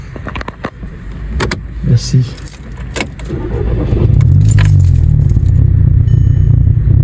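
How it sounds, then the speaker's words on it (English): A 2000s MK5 VW Golf GTI engine with misfires on cylinders 1, 2 and 3 runs roughly up close, a steady low rumble swelling after a few seconds of key jangling, light handling noises and a brief spoken word. "It's still doing that misfiring."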